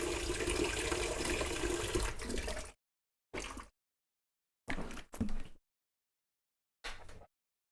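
Water pours steadily into a container at close range for a few seconds. It then cuts off, and three or four short separate splashes and gushes follow with silence between them.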